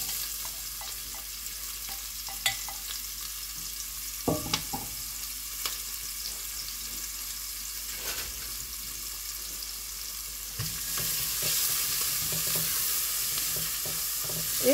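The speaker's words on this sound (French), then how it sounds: "Quand j'entends le bruit du pas rissolement, je vais ajouter mes oignons." Cumin seeds and onions sizzle in a frying pan for a vegetable curry, a close steady frying hiss with scattered pops and clicks, growing louder and fuller near the end.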